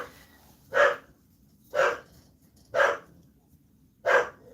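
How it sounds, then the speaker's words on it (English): Dog barking outdoors, four single sharp barks spaced about a second apart over faint background hiss. "And there goes Willie barking, probably at vultures or squirrels."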